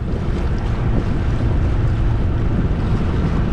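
Steady wind and waves surround a sailboat heading toward shore on Lake Ontario, a loud continuous roar with wind buffeting the microphone and water washing against the hull.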